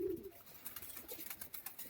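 Pigeons, including a grizzle, sit in a breeder cage; one short low coo sounds right at the start, followed by soft rustling and scattered faint clicks nearby.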